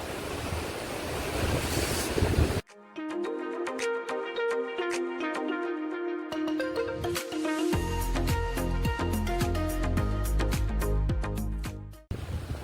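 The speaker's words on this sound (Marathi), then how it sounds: "बघा काय लाटा येतात" Ocean waves rolling in and breaking on the shore, a broad continuous roar with wind buffeting the microphone and a sudden cut partway through.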